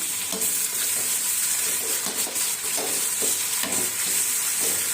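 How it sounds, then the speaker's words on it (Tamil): Onions and tomatoes sauté in a hot pan with a loud, steady sizzle, broken by periodic scraping stirs and no voices. "நாலு மீடியம் சைஸ் தக்காளியை நறுக்கி அது கூட சேர்த்து வதக்கிக்கலாம்"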